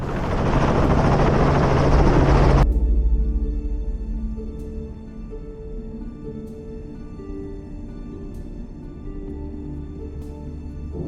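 A loud helicopter roars up close, its rotor thudding, then fades to a steady, more distant drone with periodic sharp ticks.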